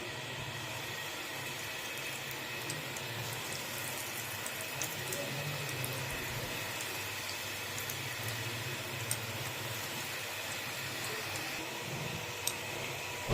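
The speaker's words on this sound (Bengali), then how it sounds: "তেল গরম হয়ে গেছে, এবার একটা একটা করে দিয়ে দেবো কড়াতে।" Vegetable chops frying in hot oil in a wok: a faint, steady hiss of sizzling that runs unbroken throughout, with a few tiny crackles.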